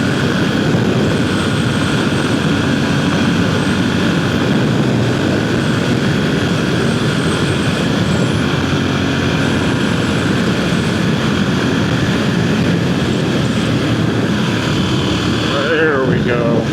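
A Ducati Monster 1100 motorcycle is ridden hard at night, its engine a loud, steady roar mixed with heavy wind rush that holds without a break for over fifteen seconds.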